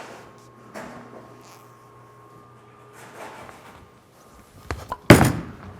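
Bowling ball thrown down a lane, with the Outer Limits Solid ball named, a faint rolling rumble followed by a sharp, loud clatter of pins near the end.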